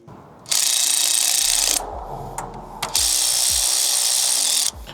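Power ratchet or driver runs in two long bursts on valve cover bolts of a 2007–2011 Toyota Camry during a gasket replacement, loud and close, with a brief pause and small clicks between runs.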